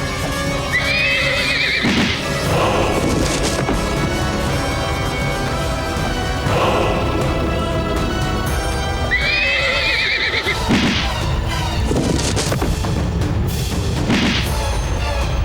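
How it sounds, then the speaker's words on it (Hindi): Horse neighs loudly in two long whinnies amid galloping hoofbeats and a dense battle din, a historical drama scene with Afghan attackers, with no talk. "पागल घोड़ा यहाँ क्या कर रहा है?"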